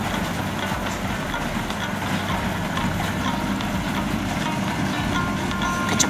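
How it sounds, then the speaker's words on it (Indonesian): A rice harvesting machine works a paddy field, its engine holding a steady, loud, unbroken drone with no voices over it. "Kecepatan dari kegiatan panen dengan menggunakan mesin ini itu tergantung dari kondisi lahan sawah yang akan dipanen."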